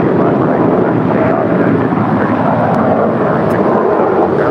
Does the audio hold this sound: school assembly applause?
no